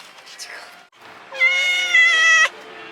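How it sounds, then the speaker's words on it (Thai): A cat meows loudly and close, a long drawn-out call with a rising then held tone, following quieter sounds; the setting is a riverside garden restaurant in Ayutthaya, Thailand. "มันบอกว่ามันเป็นแมว"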